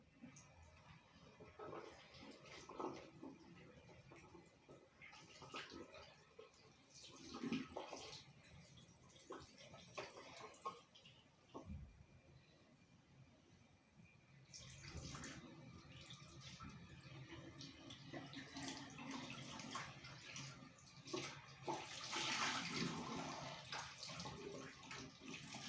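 Water runs and splashes steadily while shampooed hair is rinsed out, with fingers working through the hair, growing louder and fuller in the second half.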